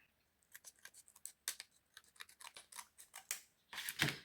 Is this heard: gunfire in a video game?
no